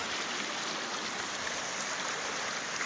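A forest creek flows steadily beside a log across the water in Oregon, a soft, even rushing wash with no breaks, fairly quiet and alone.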